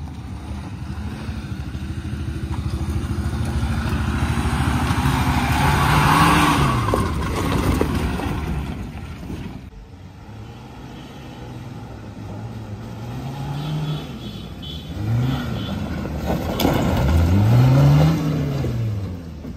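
A Maruti Gypsy off-road vehicle, recently overheated and after catching fire, runs its engine nearby, steady then rising and falling in repeated revs across the clip with no talk.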